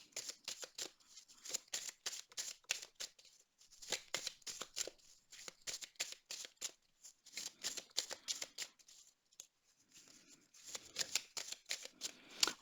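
Oracle cards being shuffled by hand, a rapid run of crisp flicking riffles in bursts with brief pauses between, close and clear with no talking.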